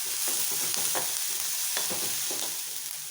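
Vegetables for kuzhi paniyaram sauté in a pan with a steady bright sizzle, broken by soft stirring scrapes that come every half second or so, close by and with no voices.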